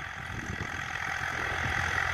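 A Swaraj tractor engine labours while ploughing a farm field, a steady, mid-pitched drone that grows slightly louder over about two seconds.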